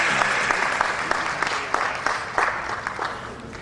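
Audience clapping at a stage event as a guest is welcomed, a dense steady burst of applause from a crowd, close and continuous, fading slightly at the end.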